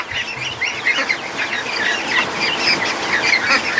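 Muscovy ducklings peep in a busy chorus of high chirps, close and continuous, with some low shuffling underneath.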